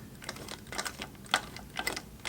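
A Singer Heavy Duty sewing machine stitches a hem on jeans, giving close, uneven bursts of mechanical clatter with brief gaps between runs.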